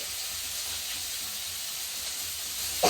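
A steady soft hiss of coconut oil heating in a frying pan before brinjal is fried, constant and close, ending with a brief louder knock.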